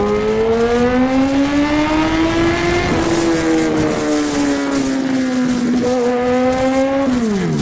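A special edition superbike with a Rapidbike evo remap revs loudly and close, its engine note climbing, holding, dipping and rising again before dropping sharply at the end, with no talk over it.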